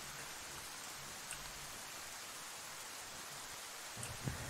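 Steady rain in the DayZ video game, a soft continuous hiss of drops with a faint rustle and a small bump near the end, fairly quiet and with no voices.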